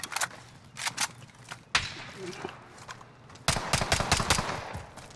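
Gunfire from the video game Call of Duty: Modern Warfare, loud bursts of rapid shots in clusters with pauses between, ending in a dense sustained volley, while players talk over it.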